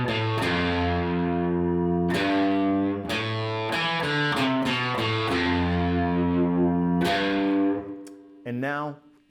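Distorted electric guitar plays a slow melody of sustained, crunchy notes with ringing overtones, loud and close, ending in a few quick picked notes.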